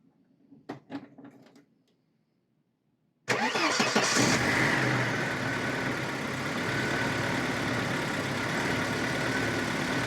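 Opel Frontera 2.4i with a weak battery starting after sitting overnight: brief faint sounds, a moment of quiet, then the engine catches abruptly and settles into a loud, steady close idle.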